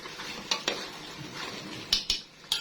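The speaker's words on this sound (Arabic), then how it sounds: "وتبقى تتشوح بقى على نار هاديه" Meat sautéing in a pot over low heat while being boiled down for soup, with soft stirring and a steady sizzle punctuated by several sharp clinks of a utensil against the pot, close and fairly quiet.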